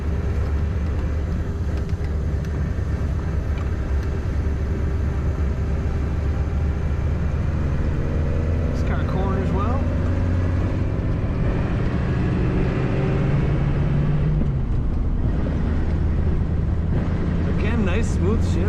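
A 1936 Ford Cabriolet convertible drives along with a steady low engine rumble and road noise, easing through a gearshift into second for a roundabout, the engine note dipping and rising again under a speaking voice.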